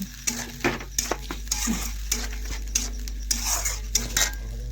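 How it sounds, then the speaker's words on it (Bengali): A spoon scrapes and knocks against a pan as garlic paste, turmeric and red chilli powder fry together, sharp metallic clinks recurring through a soft sizzle, close up. "সমস্ত কিছু একসাথে কিন্তু আমি ঢেলে দিয়ে একটু কষে নিচ্ছি"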